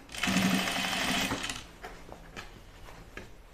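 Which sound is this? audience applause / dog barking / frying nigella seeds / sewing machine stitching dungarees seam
sewing machine stitching dungarees seam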